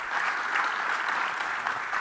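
Steady audience applause at a large government summit, a dense even patter of many hands clapping throughout, moderately loud and without speech.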